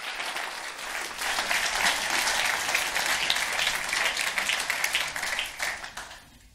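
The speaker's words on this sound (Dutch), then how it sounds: "Ja, applaus." An audience applauds steadily at a Dutch education event, the clapping swelling quickly, holding at an even, dense level for several seconds, then tapering off near the end.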